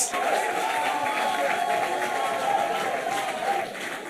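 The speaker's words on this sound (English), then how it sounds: "please, a hymnodic round of applause for Jacob, Stephen, and Margaret" Audience applause on a hymn-writing game show, a sustained wash of many hands clapping evenly for about four seconds before tapering off, with crowd murmur mixed in.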